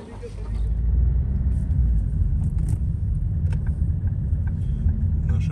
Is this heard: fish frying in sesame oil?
no